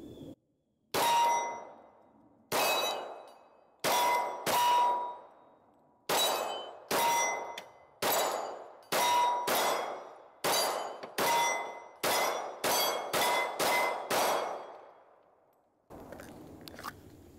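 A Glock 21 .45 pistol fires at a steel target, each hit ringing out as a sharp metallic clang that decays briefly; about fifteen hits come in an uneven string, then quicken into a rapid burst before a quieter rustle.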